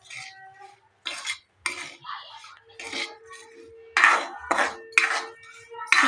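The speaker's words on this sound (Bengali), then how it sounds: "এরপর সুজিটাকে ভালোভাবে নাড়ব।" Semolina being stirred in a pan with bay leaves, a utensil scraping and clinking against the metal in repeated bursts of strokes, close and moderately loud.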